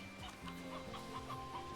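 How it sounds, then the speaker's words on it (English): A cluster of chickens in the game Slime Rancher 2 cluck in quick, overlapping bursts, soft and close, with no talk. "That's a lot of fucking chickens for this one area."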